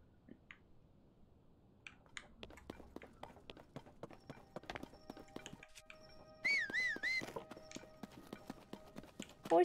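Horse in Zelda: Tears of the Kingdom trotting, with a steady run of clip-clop hoofbeats and a few whistle-like game cues over faint background sounds.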